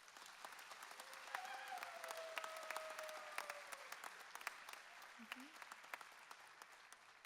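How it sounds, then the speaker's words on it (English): Awards ceremony audience applauding, faint and distant, with scattered claps over a low background hum and occasional tones. "Give yourself an applause."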